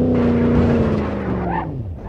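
Scraping and engine roar from a car with a blown driver's front tire in BeamNG.drive, an Olds Custom Cruiser mod, as a loud continuous engine drone with grinding scrape noise and a brief squeal near the end.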